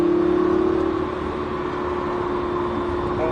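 Lamborghini Huracan on the Mettet circuit, its engine holding a steady, loud drone with a sustained tone that eases slightly after the first second, then holds through a corner under light throttle.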